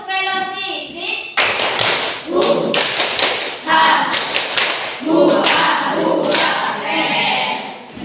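A group of children and adults clapping hands together in a patterned rhythm, sharp bursts of claps separated by short pauses, with voices chanting and talking between the beats.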